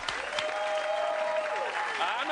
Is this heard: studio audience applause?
yes